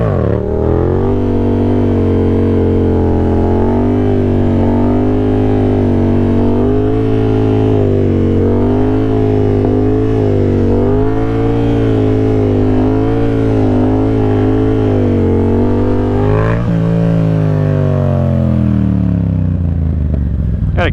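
A Yamaha FZ-07 motorcycle engine revs repeatedly in first gear, loud and close, its pitch climbing and dropping in rhythmic bursts over about twenty seconds before settling back toward idle.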